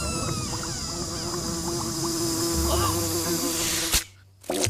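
A small housefly buzzes close by with a steady, continuous drone that cuts off abruptly near the end, leaving a brief near-silence before the sound returns.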